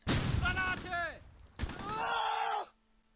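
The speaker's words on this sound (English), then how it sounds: "We're going to go ahead and drop mortars all over the place right here." Two heavy mortar impacts from a World War II battle in the Close Combat tactical game, each a sharp blast trailing into a rumbling, whistling decay, loud and close with no talk.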